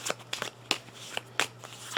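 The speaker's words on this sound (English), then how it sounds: "I got to shuffle up our deck again." A deck of game cards is shuffled in short riffling bursts, several quick papery snaps spaced irregularly, close and fairly quiet.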